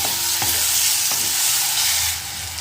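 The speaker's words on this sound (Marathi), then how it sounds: "टोमॅटो टाकते आहे आणि टोमॅटो पण परतून घेते" Tomatoes sautéing with chili powder and turmeric in a pan for a ridge gourd vegetable dish, a loud close steady sizzle with a couple of spatula knocks and no talking.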